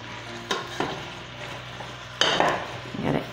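Chopped leeks stirred in olive oil in a pan, a soft low sizzle broken by several scraping stirs of a spoon against the pan.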